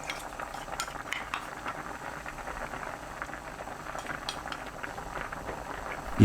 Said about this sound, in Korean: 그릇에 남은 양념까지 모두 헹궈서 넣고 센 불로 5분 끓입니다